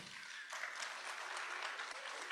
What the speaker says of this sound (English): I'm glad that drew a round of applause.